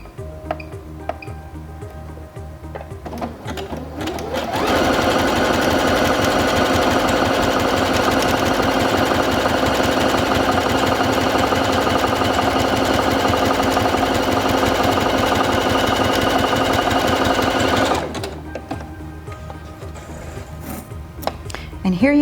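Singer Featherweight C240 sewing machine stitching at a short stitch length: a fast, rapid mechanical chatter that starts abruptly, runs steadily and loudly for about thirteen seconds, then stops, with quieter handling noises before and after.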